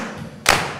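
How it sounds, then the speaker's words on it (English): A single soft slap of hands tapping on legs during a choir rhythm-patterning exercise, one brief thud alone in a quiet room. "Tap your legs."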